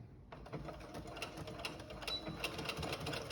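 Sewing machine stitching pockets down onto a toddler romper, a fast rapid-fire mechanical stitching rattle that starts abruptly after a brief pause and runs continuously, close and moderately loud, with no talking.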